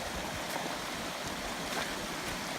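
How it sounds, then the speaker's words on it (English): A mountain stream on Mount Rosa rushes steadily nearby, a continuous broadband watery roar with no pauses and no voices. "probably within 100 feet we will encounter the stream"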